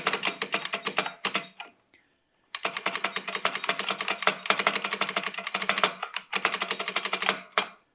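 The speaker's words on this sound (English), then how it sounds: "This is really loud with an IBM Model M keyboard here" Loud, clacky IBM Model M mechanical keyboard typing in rapid bursts, with a brief pause partway through before the clatter resumes.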